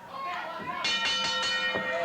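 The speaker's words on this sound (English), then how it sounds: "There's the bell" A wrestling match bell rings several times in quick succession over crowd noise and a commentator's voice.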